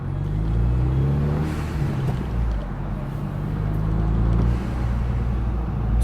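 A Hyundai Veloster turbo idles low in a parking lot, its engine a steady drone, with a brief whooshing release from the blow-off valve at low RPM partway through.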